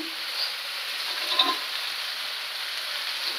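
Vegetables frying in a pan of sautéed masala, giving a steady, close, even sizzle with a few faint clinks and stirs and no talking.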